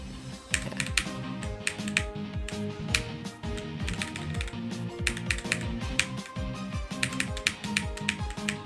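Loud computer keyboard typing during a Limbo gameplay session, a dense stream of clicky keystrokes with rapid bursts and brief pauses, close and continuous over faint background music.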